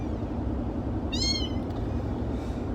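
A stray cat gives a single drawn-out meow near the middle, loud and close, then a fainter brief mew near the end, over a steady low engine drone like a car on a long drive.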